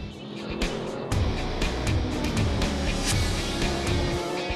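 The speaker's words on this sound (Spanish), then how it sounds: "El coche de Pedro Lamy, Augusto Farfus, Ulf Alten y Jörg Müller se sale de la pista" A BMW race car leaves the track during the Hamburg-Berlin Classic, its engine roaring loudly and steadily with sharp surges and tire noise, close and continuous with no talking.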